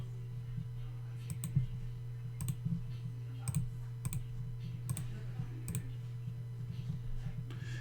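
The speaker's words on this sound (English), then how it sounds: "Have you considered getting a silent mouse so we don't hear the clicking?" Computer mouse clicks during an online poker session, sharp single clicks spaced irregularly every second or so over a steady low electrical hum, close and faint, with no talking.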